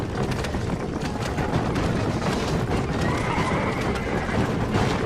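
Horses gallop and neigh in the Red Dead Redemption video game: a continuous run of clip-clopping hoofbeats with loud whinnies breaking over them, fairly close and dense.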